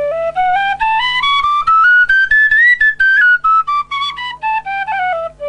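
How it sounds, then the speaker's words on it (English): A Weston D whistle made of hawthorn plays a clear, bright melody that rises and then falls stepwise, with some tongued repeated notes, close and loud with no talk. "a Weston D whistle in Hawthorn."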